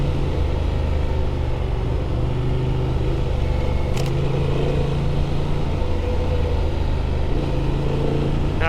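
A 2024 Honda Transalp XL 750 adventure motorcycle fitted with skid plate, crash bars and luggage rides through the California desert, its engine a steady, droning rumble mixed with wind noise and one brief click midway, with no voices.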